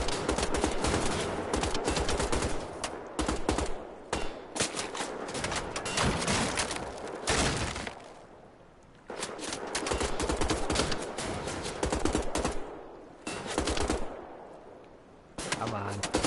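Gunfire in the shooter game Wolfenstein: The Old Blood: loud bursts of rapid shots in dense clusters, broken by short pauses, with game sound between volleys.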